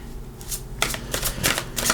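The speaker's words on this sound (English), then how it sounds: "I'm going to shuffle for the cards" A deck of cards shuffled up close, giving a short series of papery riffling bursts, each a quick flutter of snapping edges, fairly soft and with no voices.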